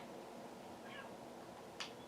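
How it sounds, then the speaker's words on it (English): A cat meows inside a video game, one short faint call near the end of the clip over a steady background hum, with a softer sound just before it. "There's a cat and a duck nearby."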